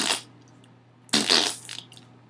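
Mouth-made imitation of a fart noise: two breathy, sputtering bursts, a short one at the start and a longer, raspier one with a fluttering tail, over a faint steady hum.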